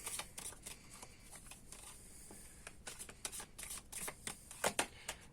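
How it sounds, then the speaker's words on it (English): Tarot cards being shuffled in quick riffling bursts, crisp and close, with short pauses between rounds and no talking. "And then let's see, let's continue to shuffle."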